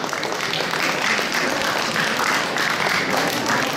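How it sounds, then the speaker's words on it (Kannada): An audience claps for children at a Deepawali prize distribution event, a steady dense round of applause from a crowd lasting throughout. "ಮಕ್ಕಳಿಗೆ ಇನ್ನೊಂದು ಚಪ್ಪಾಳೆ."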